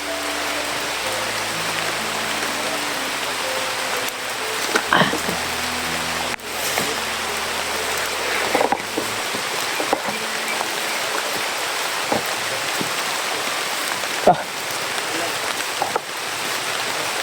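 Steady rain falls outdoors with a constant close hiss, punctuated by occasional louder drops and knocks, and a low hum underneath early on.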